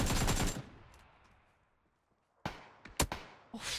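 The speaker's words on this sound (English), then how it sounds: "Guy on the top is shooting him." Gunfire in PUBG: a loud opening burst of automatic shots fades out, then after a short silence several sharp single shots and bursts crack out again, close and loud.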